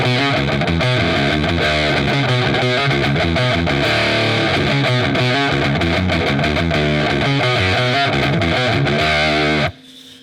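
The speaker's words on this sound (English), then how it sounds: "It starts clean, and then you kick the distortion on" Electric guitar through heavy distortion plays the bridge riff of a song, loud, thick chugging chords in a steady rhythm that cut off abruptly near the end, with no talking.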